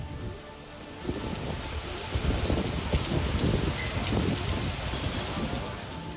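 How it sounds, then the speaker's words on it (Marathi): Heavy, steady downpour drumming on surfaces during an unseasonal thunderstorm, with low rumbles of thunder rolling beneath the dense hiss of rain throughout. "विजांच्या कडकडाटासह जोरदार मुसळधार पाऊस कोसळतोय."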